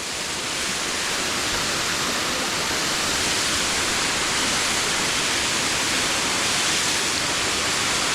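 A waterfall, Rufus Morgan Falls in the Nantahala Forest, roars in a constant, dense rush of water, loud and close, with no voices and no change throughout.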